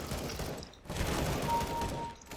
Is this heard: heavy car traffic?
no